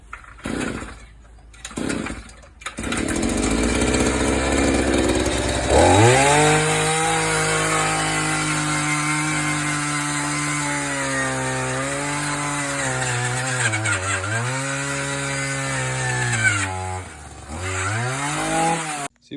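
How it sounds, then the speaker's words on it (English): A power auger drills footer holes on a jobsite, its engine roaring steadily and close with rising and falling pitch as the load changes, after a few short bursts at the start. "Digging footers by hand is a thing of the past, obviously. This is what we call an auger."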